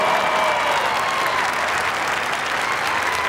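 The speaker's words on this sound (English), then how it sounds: "this will get the biggest cheer of the day, of course, from our gun dog crowd." Crowd at a dog show cheering the gun dog group's finalist: dense, continuous applause with cheering throughout, loud and steady, with no voices clearly heard above it.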